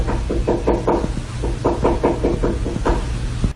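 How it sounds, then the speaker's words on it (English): Insistent knocking inside a wall or at a door with no one there, a steady run of dull thuds in uneven bursts, close and fairly loud over a low background hum. "there's something knocking in the walls"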